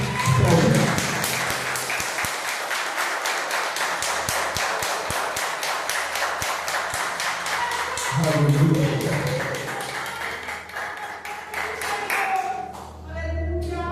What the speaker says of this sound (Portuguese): Só quem crê dá uma salva de palmas.